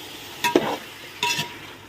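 Mutton being mixed with yogurt in a pot, two short wet squelching stirs about a second apart over a quiet background, close by, no talk.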